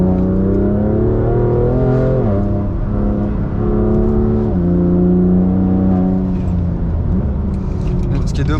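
A BMW M2 CS drives through a bend at night on a dirty country road, its engine droning loud and close with pitch steps as gears change and revs rise and fall.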